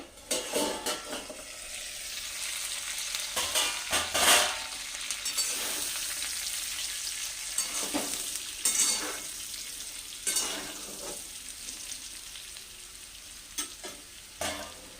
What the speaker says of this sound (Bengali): এ দেখো আমি এখন ঢাকনা খুলে একবার নেড়ে দিলাম